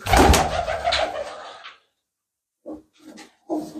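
Racing pigeons coming back to their loft, with soft cooing and wing or perch sounds in short bursts after an opening stretch of busy bird noise.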